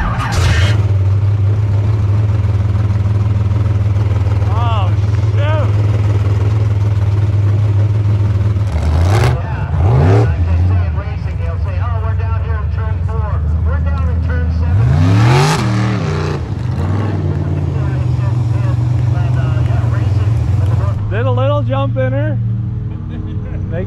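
A jet boat at the end of a sprint race run does a burnout, its engine droning loud and steady with several sharp revving surges, while people talk over it.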